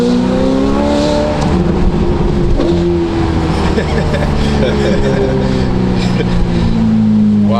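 A modified Ferrari F8 Tributo with new wheels, exhaust and tune drives along, its engine a loud, close, sustained drone with shifting pitch that holds throughout, while people talk inside the car.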